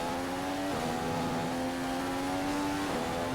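A manual Malaysian car's engine drones loudly in a racing video game, holding a steady rev with a gear-change dip twice, with no talk.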